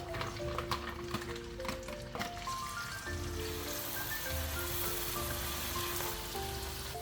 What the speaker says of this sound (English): Once the oil is hot, add in onions.